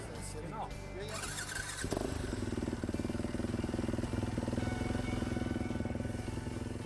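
A Dakar rally motorcycle's engine runs at a steady idle during pre-race technical checks, a close, continuous rumble heard with other background noise and no clear speech over it.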